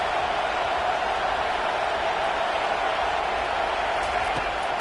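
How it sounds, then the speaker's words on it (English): A stadium crowd roars at a Florida State vs Texas A&M college football game, a loud, sustained wall of noise with no breaks. "Listen to this crowd just shaking the girders of this place trying to help their defense."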